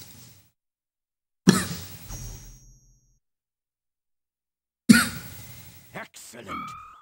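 A person coughing twice with a long silent gap between, each a sharp close burst trailing off, and a brief bit of speech near the end.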